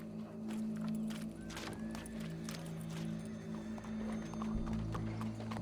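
Horse hooves in Red Dead Redemption 2 clip-clop steadily as a rider draws closer, the rhythmic footfalls running under a constant game soundscape with low drones, with no talk.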